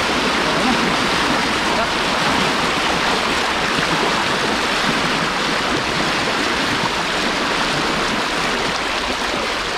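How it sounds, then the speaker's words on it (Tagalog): A river current rushes past in a continuous loud broadband roar, steady and close throughout with no breaks, the sound of fast-flowing water over rocks. "Sarap maglaro sa Agos."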